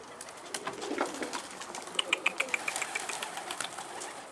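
A hungry racing pigeon caught in nets outdoors gives a run of soft, repeated coos that settle into a quick, evenly spaced series of pulses midway through, with a faint flutter of movement at the start.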